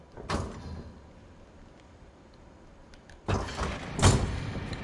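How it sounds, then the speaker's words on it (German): A door opens inside the game What Remains of Edith Finch: a short rumbling slide near the start, then after a quiet gap a longer, louder sliding thud with a heavy bump at the end. "Und eine Tür."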